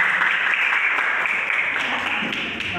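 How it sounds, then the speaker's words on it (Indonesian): Classroom audience applauding for a student, a dense patter of many hands clapping together that holds steady and then tapers slightly, with no one talking. "Oke, tepuk tangan buat Maya."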